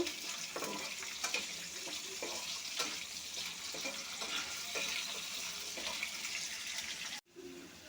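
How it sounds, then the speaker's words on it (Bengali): Potatoes frying lightly in a pan while cooking sajna chorchori, a steady close sizzle with faint clinks and stirring scrapes, continuous until a sudden brief cut near the end. "আলুটা হালকা করে ভেজে নেব"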